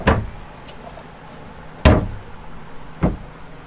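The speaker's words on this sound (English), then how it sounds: "You know the door shuts properly." The door of a Ford Transit camper van conversion shutting, several solid thuds spaced a second or so apart, loud and close against a quiet background hum, with no talking.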